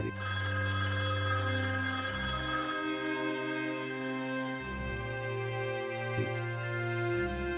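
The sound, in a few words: telephone ringing, unanswered call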